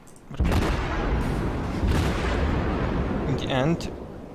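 Naval guns firing in World of Warships, a loud booming salvo that rolls into a sustained rumble for several seconds, ending with a brief warbling game effect, while someone talks over it.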